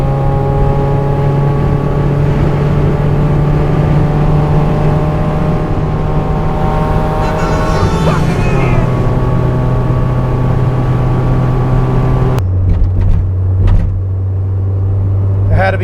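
A car engine hums and rumbles steadily from inside the cabin, loud and continuous, with a shift in engine pitch near the end while a person talks over it.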